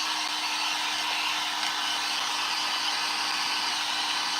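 Steady, close whooshing of a hair dryer drying blue paint on a craft piece, its hum unbroken throughout with a faint constant tone underneath.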